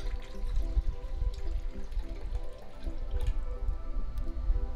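Hot coffee poured into a container of water, close trickling and dripping with small splashes over a low steady hum, continuous for several seconds with no voices.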